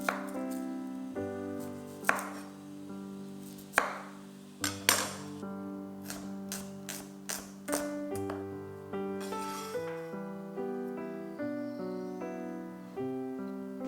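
A knife chopping garlic and onion on a board, a steady series of crisp taps, some louder, under a sustained tonal musical background.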